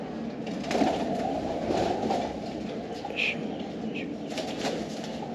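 Pigeons in a fancier's loft give brief calls and wing flutters over a constant low background rumble, with murmured voices at times.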